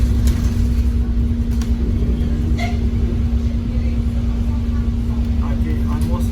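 Inside a moving double-decker bus in Glasgow, a steady low engine rumble with a constant hum and occasional small rattles and clicks, loud and enclosed.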